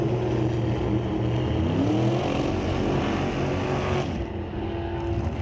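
Two drag cars, a Chevelle and a Nova, race side by side at an NHRA Division 6 ET bracket final at Mission Raceway Park, their engines roaring loud and steady from the launch, with a slight drop in the last second.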